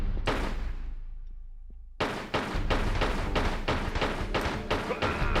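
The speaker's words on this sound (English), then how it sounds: "There's a guy over there with a gun shooting at me." Enemy gunfire in the Tomb Raider 3 High Security Compound level: one shot with a decaying tail, then a loud, rapid burst of evenly spaced shots repeating for several seconds, with no talking over it.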